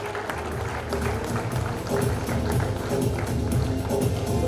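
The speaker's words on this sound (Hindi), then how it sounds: "तालियां बजाइएगा।" Audience applause at a prize distribution ceremony, steady dense clapping from a seated crowd filling the hall throughout, fairly loud and continuous.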